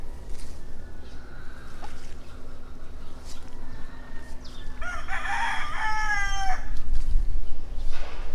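Gamefowl roosters on a breeding farm, with one clear crow ringing out near the middle and fainter crows and clucks in the distance over steady farmyard background noise.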